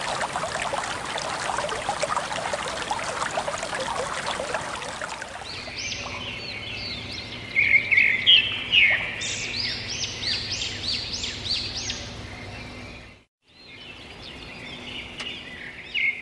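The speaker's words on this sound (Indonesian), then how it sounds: "Jadi ini tempat pinggiran sungainya ya." A river stream flows steadily beside a riverside campground at Baladewa River Park in Pacet, Mojokerto, with a broad water rush first, then birds chirping in bursts over a softer flowing background.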